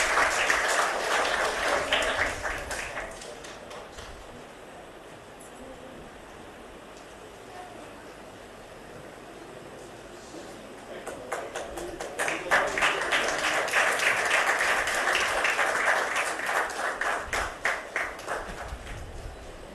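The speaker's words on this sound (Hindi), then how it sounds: "जोरदार तालियों से स्वागत" Audience applause at a ceremony where the President presents low vision glasses to students, a burst of clapping that fades, a quieter lull, then a second strong wave of claps.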